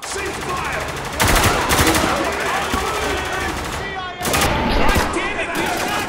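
Dense automatic gunfire from a firefight in the video game Spec Ops: The Line, loud and continuous with sharp rapid bursts that swell and ebb, mixed with shouting voices.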